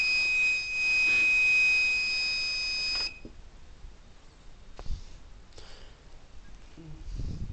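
A Bluefruit nRF52 ANCS notification device alerts for an incoming iPhone call with a loud, steady electronic buzzing tone lasting about three seconds, then cuts off, leaving faint handling clicks and rustles.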